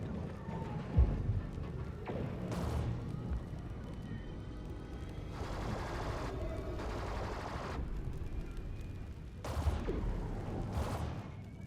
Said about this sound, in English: Here's the battle ambience with both the ambience stingers and the bed.